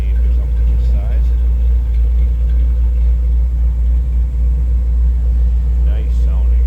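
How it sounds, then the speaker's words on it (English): 1928 Ford Model A roadster street rod with a 283 V8, idling with a deep steady rumble close by, a voice talking faintly over it now and then. "Great sound of this car. 283 V8 in it."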